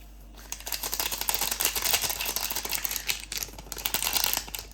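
Rapid, steady clicking and scraping of a whisk beating cottage cheese pie batter with vanilla sugar in a bowl, close and continuous with brief pauses.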